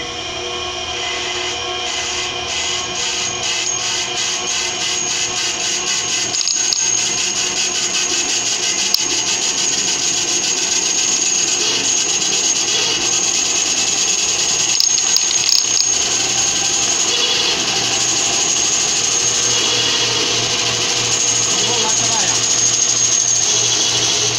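A power saw fitted with a new blade runs steadily for the whole stretch, a dense continuous mechanical whir with a rattling, ratchet-like texture and a few brief dips. It plays loud and close, with no talking over it.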